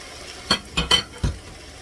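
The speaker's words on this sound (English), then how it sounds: "So now we're going to add the peppers to it." Peppers stirred into a pot of chicken and sausage gumbo: four short scraping stirs with faint clinks of a utensil against the pot over a soft, steady sizzle.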